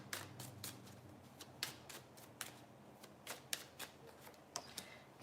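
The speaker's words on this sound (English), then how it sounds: "Come on, 2 more cards for Gemini." Tarot cards are shuffled, handled and drawn one after another, making faint, quick papery flicks and snaps in an irregular rhythm.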